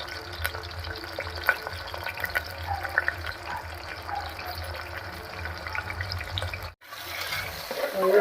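Onions and green chillies frying in hot oil in a pressure cooker, a steady crackling sizzle with stirring scrapes throughout and a brief break near the end.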